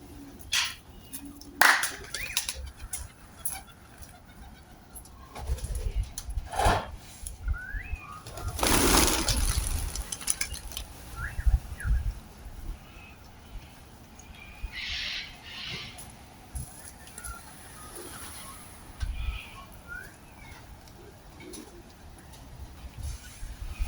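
Pigeons take off and fly from a rooftop loft after being shooed, giving bursts of wing flapping and claps with scattered coos, set against a quiet outdoor background.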